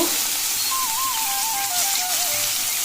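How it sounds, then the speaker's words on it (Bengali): Hilsa fish heads frying in a pan give a steady, bright sizzling hiss with no talk, while a wavering whistle-like tone drifts over it for a couple of seconds. "মাথাগুলোকে আগে একে একে ভেজে নেব"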